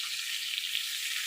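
Aubergine slices frying slowly in hot oil give a steady, close, bright sizzle with a soft crackle running evenly throughout, and no voices.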